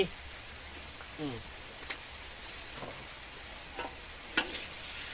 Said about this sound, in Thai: ตอนนี้ฝนก็ตกปุ๊บปุ๊บเป๊ะ